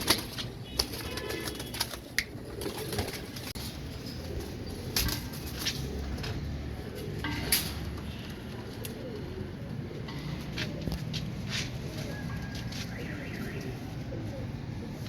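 Rampuri pigeons coo softly in a loft amid a dense, rustling murmur of birds, with scattered sharp flaps and scuffs of wings throughout.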